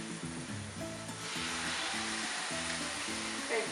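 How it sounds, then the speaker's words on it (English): Greek toast sizzling in a hot buttered pan, a steady bright crackle with soft rhythmic stirring or scraping beneath it, close up and with no talk. "And then you hear the sizzle."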